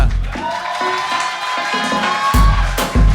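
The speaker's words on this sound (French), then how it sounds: "Applaudissements." Crowd at the NRJ Antilles 2025 awards ceremony breaks into cheering and shouting for a content-creator prize winner, with music playing underneath and bursts of louder crowd noise near the end.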